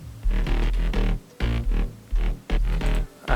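Layered electronic drop with heavy sub bass and dirty synth sounds stacked together, pulsing in loud rhythmic bursts separated by brief gaps, with no voices.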